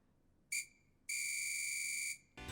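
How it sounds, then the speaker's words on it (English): A lifeguard whistle sound effect sits in a music track, a short shrill blast followed by a longer sustained one, then a bright burst of another sound at the end, loud and clear. "I added the lifeguard whistle in there."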